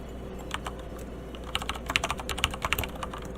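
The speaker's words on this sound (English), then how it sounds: "Is my keyboard too loud because it is directly under the microphone?" Mechanical keyboard with red switches, sitting directly under a streaming microphone, clacks in quick irregular bursts of keystrokes. Close and fairly loud, with the typing growing busier toward the end and no voices.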